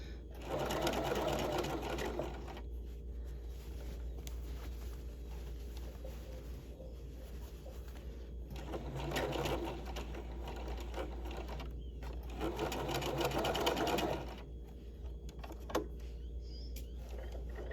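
A sewing machine runs steadily while stitching the side seam of a garment with an all-in-one facing and lining, humming close by, with several louder bursts of faster stitching rising and falling over it.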